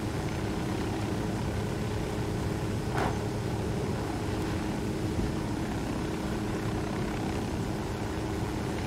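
Steady, droning vehicle engine from the Ghost Recon Wildlands video game, a continuous low rumble that holds at an even level throughout with no break.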